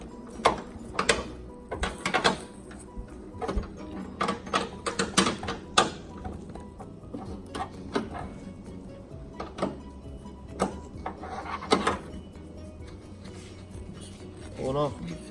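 A 10mm wrench works a taillight bolt on an 8th-generation Nissan Maxima, giving scattered close metallic clicks, ratcheting and scraping rattles in irregular bursts with quiet gaps.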